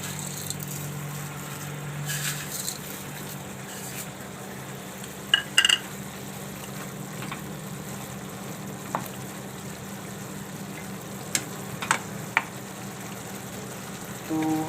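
Sev goes into a simmering green onion curry in a pan, with a low continuous sizzle and bubbling, a few sharp clinks of a spoon against the pan, and soft stirring scrapes, close by.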